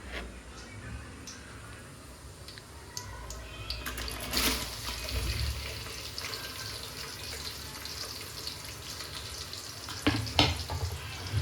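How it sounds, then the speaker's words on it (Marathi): Onions fry in a pan of oil with whole spices and a pinch of salt, giving a steady close sizzle with a few louder clatters of stirring partway through and near the end. "कांदा तळताना थोडं मीठ टाकायचं म्हणजे कांदा लवकर लाल होतो"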